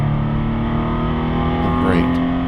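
Porsche 911 engine built to RS specs, rated around 250 horsepower at the wheels, runs with a steady, loud, harmonic drone that holds throughout, with a brief rising whine near the end.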